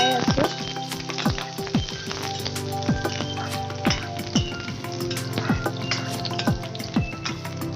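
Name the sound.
onion and chillies frying in mustard oil, being stirred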